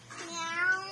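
A voice imitates a cat, giving a single drawn-out, rising and falling meow up close.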